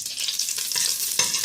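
Beef trotters being stirred in a spoonful of country ghee in a hot pot, giving a steady crackling sizzle with scraping strokes of the stirring spoon close by.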